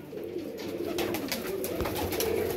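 Domestic pigeons, kept by a hobbyist, coo steadily in soft, rolling low calls amid a faint background hum, with no voices.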